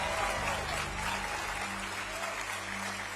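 A crowd cheers and applauds in a dense, continuous wash of clapping and voices, steady throughout and moderately distant.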